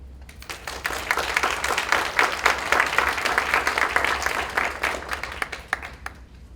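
A conference audience applauds a keynote speaker with steady, dense clapping. The applause swells and holds for several seconds before thinning toward the end.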